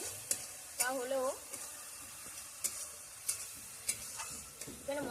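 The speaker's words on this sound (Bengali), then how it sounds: "সামান্য জল দিয়ে মশলাটা ভালো করে কষিয়ে নেব" Spice paste for a jackfruit and prawn curry, loosened with a little water, sizzles softly in a pan under repeated scraping and stirring strokes; a brief faint voice-like tone appears once.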